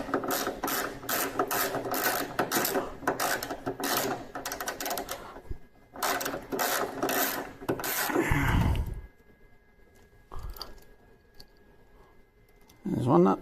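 Ratchet wrench loosening the nuts on the inner tail light of a 2016-2020 Honda HR-V, rapid close clicking bursts in two long runs, then quieter handling sounds and a brief low thump.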